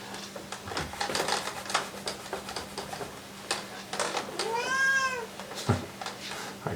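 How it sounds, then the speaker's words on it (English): A cat meowing to be let outside, one clear drawn-out meow rising and falling near the middle, heard close against a quiet room with light tapping and rustling. "Our cat wants to go outside."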